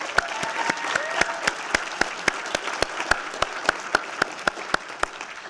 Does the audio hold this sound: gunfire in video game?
no